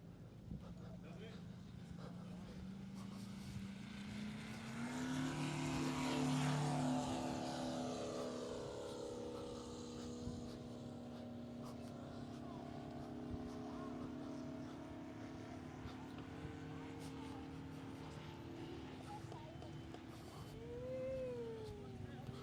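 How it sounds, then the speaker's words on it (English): A Diablo RC model jet flown at a fly-in, its turbine whine rising and sweeping past at a distance, steady and sustained, under outdoor crowd noise and people talking nearby. "this is the Diablo being flown by the world's youngest RC jet pilot, Patricio"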